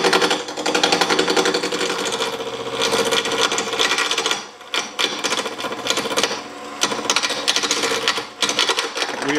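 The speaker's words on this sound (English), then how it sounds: "And I'm going to be turning today with my carbide tools" Wood spinning on a lathe while carbide tools cut it, giving a loud, rapid, rattling chatter with broadband scraping close up and a few brief dips where the cut eases.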